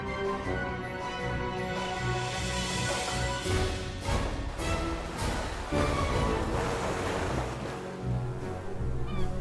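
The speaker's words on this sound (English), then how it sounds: "white-capped waves surge beneath a cold gray sky" Ocean waves surge and wash under a cold gray sky, a continuous rushing roar with repeated swells and bursts of spray, broad and fairly loud with no voices.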